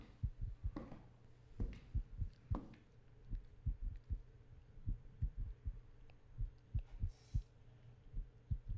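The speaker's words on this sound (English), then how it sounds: "Why is my heart beating?" A heartbeat sound effect from a horror video game pulses steadily in paired thumps. The beat is fairly close and repeats evenly, with a faint high whine briefly rising near the end.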